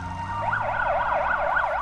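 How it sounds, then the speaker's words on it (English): An emergency siren wails in fast rising and falling sweeps, loud and fairly close, over a low rumble of traffic. "The wail of a siren, up to 140 decibels,"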